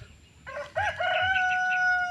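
A single rooster crows nearby, a long harmonic call that rises and then holds steady, over faint background noise.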